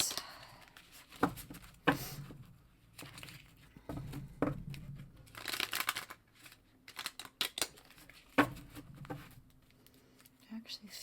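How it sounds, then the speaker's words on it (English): A deck of tarot cards being shuffled by hand during a reading, giving soft, irregular riffles and slaps with papery crinkles, fairly close and quiet, with short pauses between bursts. "I'm having trouble shuffling these cards."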